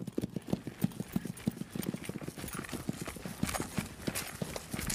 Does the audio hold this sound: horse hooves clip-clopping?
yes